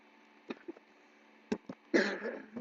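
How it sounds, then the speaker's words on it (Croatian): A few short, dry coughs sound close by, two quick ones followed by a longer rough hack, over a faint steady hum. "jako kašljujem za video"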